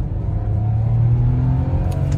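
A 2004 BMW X5 3.0i with a six-speed manual pulls in second gear, its engine giving a steady, close, low rumbling drone that rises gently in pitch as it accelerates, with faint cabin whir beneath.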